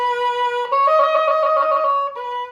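A baroque oboe plays a sustained trill on E that sounds noticeably out of tune. The rapid alternation between notes is close and steady and runs unaccompanied, with a short held tone closing the phrase.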